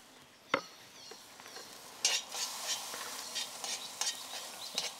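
On a Weber grill, a spoon stirs butter into boiling sauce, giving a sharp clink, then soft sizzling and bubbling with scraping stirs, quiet and close, no talking.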